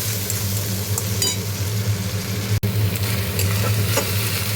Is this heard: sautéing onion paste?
yes